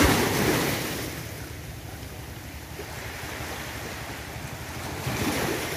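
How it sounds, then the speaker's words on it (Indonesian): Gentle morning waves breaking on Pulau Panjang beach in Pasaman Barat, a soft steady wash of surf with wind buffeting the microphone, swelling slightly at the start and end, no voices. "Deburan ombak yang sepoi-sepoi, tidak terlalu keras."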